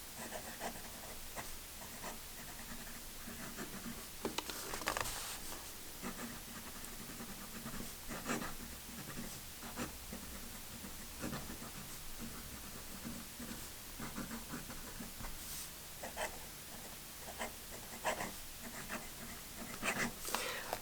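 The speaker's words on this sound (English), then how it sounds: "Quick writing sample." A fountain pen with a fine number 6 Schmidt nib and Parker Quink ink writes on paper, a quiet, close scratching with short strokes and brief pauses, faint against a light background hiss.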